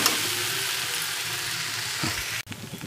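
Mixed vegetable fritters frying in a pan give off a steady, close sizzle, with a few stirring or scraping knocks near the end.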